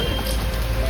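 Heavy monsoon rain pours steadily around people walking to a temple during the Ganpati festival in Mumbai, a dense, even hiss with close patter and no voices.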